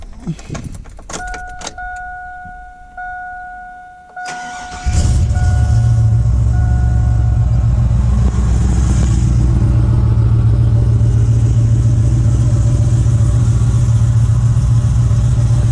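A car engine with an oil catch can fitted cranks and catches, then settles into a steady, loud idle after a few seconds of quieter mechanical noise and key jingles.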